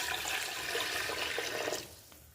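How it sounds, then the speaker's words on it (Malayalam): Water poured into a pot of lentils for sambar, a close, steady gushing pour that tapers off toward the end. "ഞാനിവിടെ 3 ഗ്ലാസ് വെള്ളമാണ് ചേർക്കുന്നത്."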